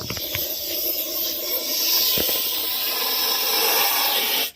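An angry snake gives a loud, sustained hiss that runs unbroken and close up, with a couple of faint knocks early on.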